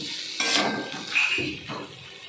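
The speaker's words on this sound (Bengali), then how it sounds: "এবার ভালো করে আবার হলুদটা লবণটা সবজির সঙ্গে নেড়ে নিলাম" Turmeric and salt being stirred into vegetables in a pan for a light koi fish curry, with a few close scraping clatters of a spatula against the metal.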